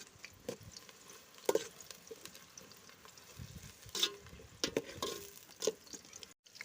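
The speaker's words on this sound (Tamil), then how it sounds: "வெங்காயத்தை வதக்கிக்கலாம்." Onions saute in a pan for a Sunday biryani, a faint sizzle under repeated scraping and clinking of a spoon against the metal in uneven bursts, close by, with no talking.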